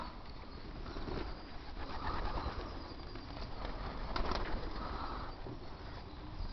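Soft cooing of racing pigeons in a loft murmurs against a steady hiss of background noise, with no voices heard.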